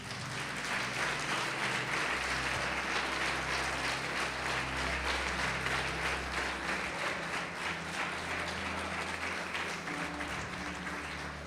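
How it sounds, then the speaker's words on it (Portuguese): A church congregation applauds in a long, even wash of dense clapping that holds steady throughout, with a low hum beneath and no voices standing out. "Quem mesmo engasgado pode aplaudir o Senhor?"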